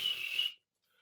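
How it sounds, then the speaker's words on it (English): A single steady whistle blast holds for about half a second at moderate loudness, then cuts off to silence. "I'm gonna blow the whistle"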